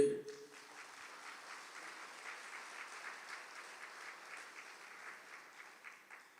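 Steady applause from a church congregation at a Catholic talk, a dense even patter of many hands clapping at moderate distance, continuing unbroken throughout without speech.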